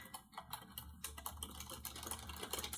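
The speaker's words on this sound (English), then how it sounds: "you're going to hear me typing" Rapid irregular clatter of keys on a computer keyboard, close and fairly quiet, continuous bursts of typing with no talk over it.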